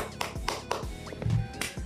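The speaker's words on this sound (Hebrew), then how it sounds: "וואו, איזה כפיים" Hands clap several times in a quick, uneven run of sharp, close taps, with a brief low hum partway through and no talk.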